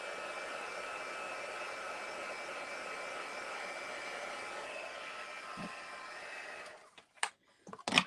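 A heat tool runs steadily, drying a spritzed watercolour background with a constant close, broadband whir that cuts off near the end, leaving a few brief clicks and knocks.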